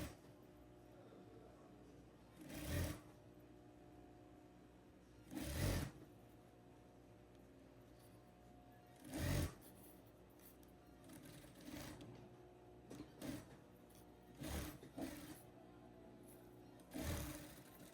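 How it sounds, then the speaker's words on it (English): A sewing machine top-stitches a flat strip of extra denim inside a pair of jeans, running in several separate loud bursts of two to three seconds each with quiet gaps between them, and no one speaks. "Lay the extra fabric flat and secure it neatly with a top stitch like this."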